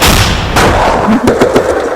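Loud gunfire: a handful of sharp, rapid shots cracking out over a dense, rumbling background, close and harsh.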